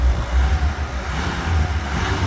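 A Nissan Note's engine idles steadily with a low, even rumble and broad mechanical hiss, close and continuous, with no turbo whistle.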